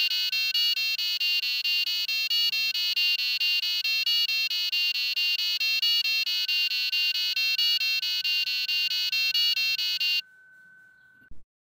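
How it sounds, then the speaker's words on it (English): A passive buzzer driven by an STM32 microcontroller plays the Stranger Things melody as a loop of bright, stepping electronic tones in an even rhythm. Near the end it settles into one softer sustained tone that then cuts off. "You can hear the Stranger Things melody being played by the buzzer."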